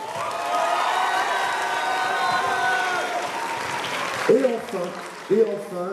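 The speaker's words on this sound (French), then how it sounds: "On peut l'applaudir s'il vous plaît." Applause for a cosplayer at the Mang'Azur 2025 convention cosplay contest, a steady wash of clapping from a crowd with tonal music or voices running through it, ending in a couple of brief spoken bursts near the end.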